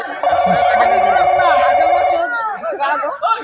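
A telephone rings with a sustained electronic tone lasting about two seconds, close and loud, under overlapping chatter, then people talk after it stops.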